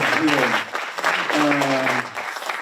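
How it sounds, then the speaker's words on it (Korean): An audience at a Korean arts-sector fair finance vision declaration ceremony at the Roh Moo-hyun Citizen Center claps in steady waves while a voice briefly speaks over the applause. "더 큰 박수 부탁드리겠습니다."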